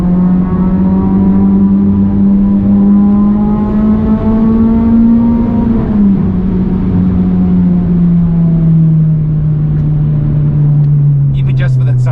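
A Toyota Levin with a 4A-GE engine revving inside a tunnel, a loud, close, sustained high-revving engine note that climbs steadily and then drops slightly as the pitch falls, echoing off the walls.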